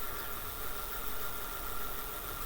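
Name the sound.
electric bike motor spinning the wheel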